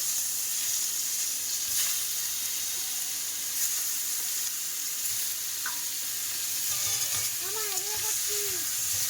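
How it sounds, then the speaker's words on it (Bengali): Food frying in oil at a village market stall in the Sundarbans gives a steady broadband sizzle throughout, with faint voices and market bustle in the background. "তো এটা ভালোভাবে ভাজা হয়ে যাচ্ছে, এর মধ্যে তেল আছে।"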